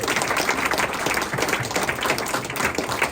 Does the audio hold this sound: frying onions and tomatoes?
no